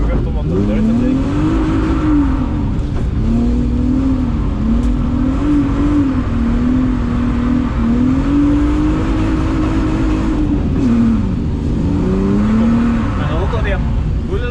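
A BMW E36 car engine revs and pulls hard through the gears, pitch rising and dropping repeatedly as it accelerates around a track, loud and close throughout.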